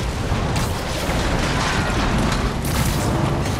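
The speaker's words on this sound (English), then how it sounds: "is everyone shooting rockets all of a sudden?" Rockets exploding in the Marvel's Spider-Man video game, a dense, continuous roar of blasts and rumbling booms filling the mix loudly with no speech.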